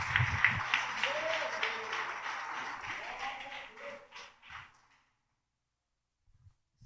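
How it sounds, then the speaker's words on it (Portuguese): A church congregation claps together in a burst of applause, mixed with voices, and the clapping thins out and fades over a few seconds before falling silent. "Dá uma salva de palmas para Jesus"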